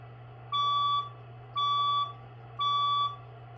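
A building fire alarm sounds during a test, giving three loud, evenly spaced electronic beeps about half a second long, each a bright harmonic tone over a steady low hum, with no voices.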